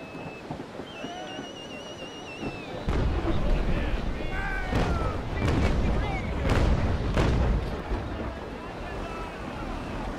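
Broadside of ship cannons firing chain shot in the naval sailing game Naval Action, heavy booming blasts rolling in from about three seconds on over wind and creaking sea ambience, with a few sharp louder reports.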